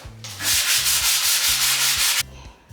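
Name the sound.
fine sandpaper sanding a wooden kitchen worktop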